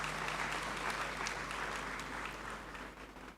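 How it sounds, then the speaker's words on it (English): A large audience in a great hall at a university graduation ceremony applauding doctoral supervisors, a sustained dense clapping at moderate distance that fades away at the end. "I applaud your supervisors this morning for the great job"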